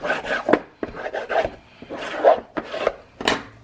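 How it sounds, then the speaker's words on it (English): Close, dry rubbing and scraping of a tool pressing paper lining down onto a tray for a DIY divided tray, in irregular short strokes with no talk. "So then I'm going to burnish it down a little bit."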